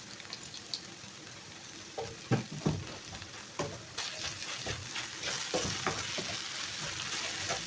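Food frying in a pan, a steady hiss of sizzling oil with sharp crackles and pops and occasional stirring scrapes, close and fairly loud with no talking.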